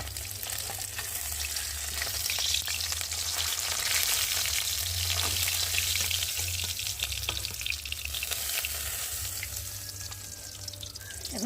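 Tilapia fish sizzle steadily in hot oil in a home kitchen, a continuous close crackling hiss with occasional stirring and splashy bursts, no voices.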